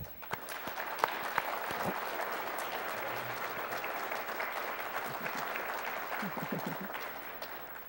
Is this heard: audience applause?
yes